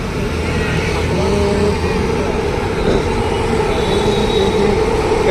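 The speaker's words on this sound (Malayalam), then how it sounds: "മേലെ കൂടി മെട്രോ ട്രെയിൻ പോകുന്നുണ്ട് കേട്ടോ" A metro train rumbles by overhead in Whitefield, Bangalore, a loud continuous roar with a faint metallic whine above it, steady throughout.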